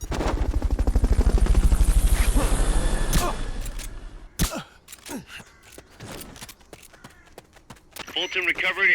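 Rotor thump of a helicopter in the video game Metal Gear Solid: Peace Walker, loud and rhythmic for about four seconds before stopping, then scattered game effects and brief voice sounds.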